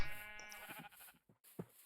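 A single sheep in a video game bleats in a wavering, nasal cry, followed by a couple of faint short sounds and brief quiet.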